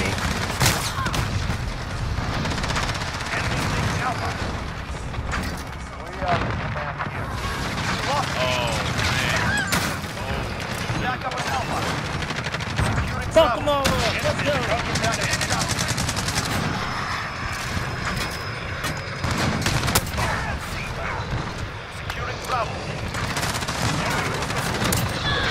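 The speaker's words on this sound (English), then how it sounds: "This is all with the shotgun." A 725 shotgun fires repeatedly during a frantic Call of Duty match on the cramped Shipment map, blasts mixed with other weapons and game noise in a dense continuous barrage, with a voice talking intermittently.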